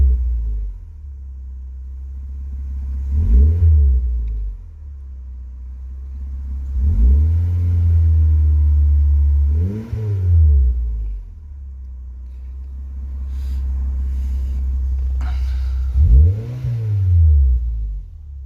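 A turbocharged Suzuki Swift ZC31S fitted with a TM-square turbo idles with a low rumble, then revs up and drops back several times in short, evenly spaced blips, loud and close with no talking.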